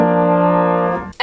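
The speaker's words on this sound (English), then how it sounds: "If you tried to play that lick on the piano," A guitar lick from a song rendered on piano: one sustained, bright chord-like tone held steadily for about a second, then cut off abruptly, loud and alone.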